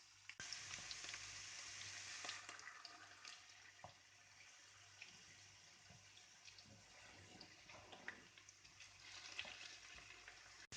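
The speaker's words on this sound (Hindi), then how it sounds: "आप देख सकते हैं पोटैटोज फ्राई हो रहे हैं." Potatoes frying in hot oil in a home kitchen, a steady soft sizzle and crackle with scattered pops, faint and continuous, with no talking.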